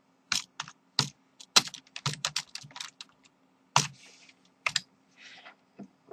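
Someone types on a computer keyboard in short, irregular bursts of crisp key clicks, close and clear, with brief pauses between the flurries over a faint steady hum.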